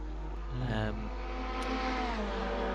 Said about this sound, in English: I do think the Cupra is actually quite a good sounding car